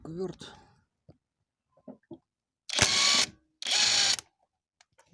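A nut being undone during servicing of a Tact 24 scooter engine, heard as two loud broadband bursts of a power wrench or ratchet with a few sharp clicks and taps around them, close by.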